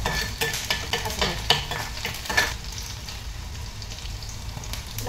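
Ingredients fry in hot oil in a pan on a single burner, a dense close sizzle with stirring scrapes and clinks at first, settling into an even hiss with no talk.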